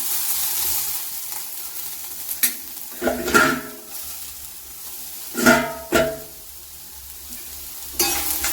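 A spoon stirs snake gourd thoran with grated coconut paste in a hot pan after its water has cooked off, giving several loud scraping, sizzling bursts between quieter stretches of low frying hiss, close up and without speech.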